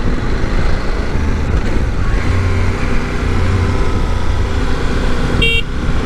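A 2025 CF Moto 800 MT sport+ motorcycle rides at low revs, below 2000 rpm where the engine knocks slightly, producing a loud, continuous engine drone mixed with wind and road noise and a brief horn-like tone near the end.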